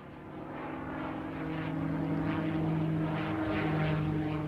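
A P-51 Mustang propeller fighter plane drones steadily, its piston engine and propeller producing a continuous rough hum that swells slightly louder and holds.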